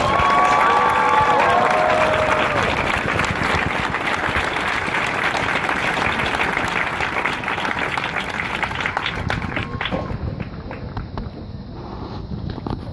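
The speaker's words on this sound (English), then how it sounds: "please join me in a round of applause for the company staff of Company E" Outdoor audience applause at a Marine Corps graduation ceremony for Company E staff, loud sustained clapping with some cheering and wind noise, gradually thinning out near the end.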